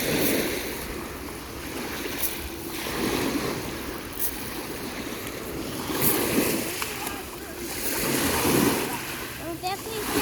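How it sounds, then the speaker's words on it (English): Cold lake waves at Flathead Lake, Montana, washing in a steady, fairly loud wash with rhythmic surges every couple of seconds and light splashes, with wind mixed in. "These are just lake waves."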